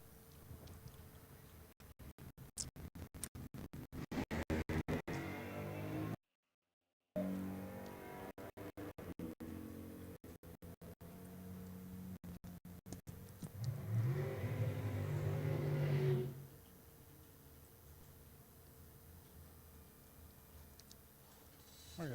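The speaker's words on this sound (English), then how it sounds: "that 72 Roadrunner I was talking about earlier, that is it going down the track right now" A 1972 Plymouth Road Runner with a 400 engine and a pistol-grip four-speed accelerates down a drag strip. The engine rises in pitch and drones for several seconds, then cuts off, heard from a moderate distance.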